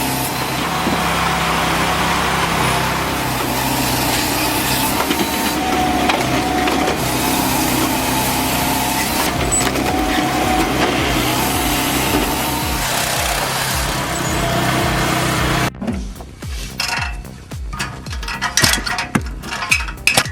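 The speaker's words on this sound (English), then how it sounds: "Firewood processor is built for both homeowners and pros, blasting through frozen logs with clean, rapid cuts." A firewood processor cuts and splits frozen logs, giving a loud continuous grinding and crushing roar of sawing and splitting wood, then breaking into irregular cracks and thumps near the end, with no talk.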